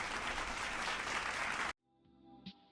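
A crowd claps steadily in a loud, dense burst of applause for about a second and a half, then cuts off abruptly into near silence with a faint sound afterward.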